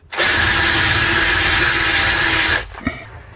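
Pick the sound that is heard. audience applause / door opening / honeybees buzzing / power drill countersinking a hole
power drill countersinking a hole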